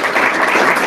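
Board meeting attendees give a round of applause, a dense, steady wash of clapping filling the short moment with no voices over it.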